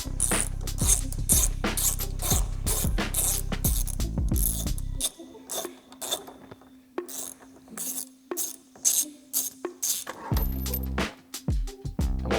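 A 10mm socket ratchet with a 3-inch extension removes a bolt from a Cybertruck's bumper area, giving rapid close clicking bursts, then pauses and lighter metallic ticks and clinks.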